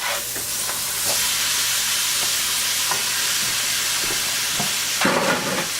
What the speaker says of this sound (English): Our skillet is heated up. And we want to cook the garlic with the shrimp.